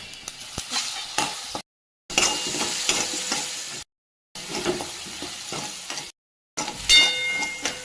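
Mustard seeds, cumin and ground chili temper in hot oil, crackling and sizzling loudly up close in several bursts separated by short silences, with faint scrapes of a utensil.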